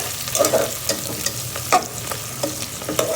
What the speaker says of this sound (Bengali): তেল গরম করে এর মধ্যে আমি পেঁয়াজ দিয়ে দিচ্ছি, চিংড়ি মাছ দিয়ে দিচ্ছি সামান্য পরিমাণে। লাল লাল করে ভালো করে ভেজে নেব।